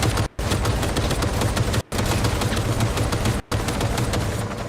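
A weapon in the video game Cyberpunk fires nonstop, with no reload and no recoil, in a loud dense stream of rapid shots broken by three brief pauses.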